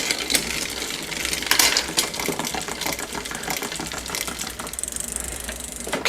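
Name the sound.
Trek bike rear derailleur top pulley wheel rubbing chain against big cog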